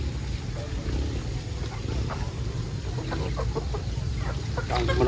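Chickens cluck faintly and intermittently outdoors in a rural garden setting, under steady background noise and occasional distant voices.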